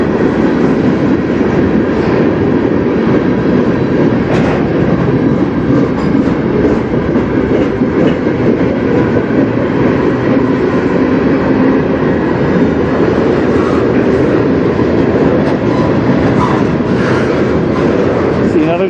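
A CN freight train rolls past on the Strathroy Subdivision near Sarnia, Ontario, its steady loud rumble and wheel clatter filling the whole stretch close by, with faint voices now and then.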